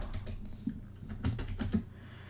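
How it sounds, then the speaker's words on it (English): Steady clatter of typing on a computer keyboard during a live coding session, rapid irregular key taps close up with a few louder strokes. "I'm a little tired of typing right now"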